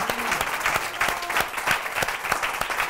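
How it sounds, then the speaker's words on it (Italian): Audience applause at a televised dance show in Novara, steady clapping from a crowd with sharper individual claps standing out in a regular rhythm, moderately loud and continuous throughout. "Facciamo un applauso anche alla mia mamma, dai."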